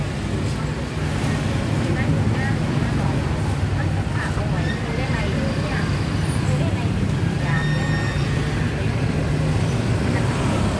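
A tuk-tuk rides along a street in Pattaya, Thailand, its motor droning steadily amid dense road traffic noise that stays constant and close for the whole stretch, with no clear talk over it.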